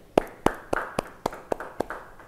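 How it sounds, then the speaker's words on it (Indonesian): A small church congregation at a Bible study claps in slow, evenly spaced beats, about eight sharp claps close by with quiet room reverb between them. "Yang yakin demikian, beri tepuk tangan bagi dia."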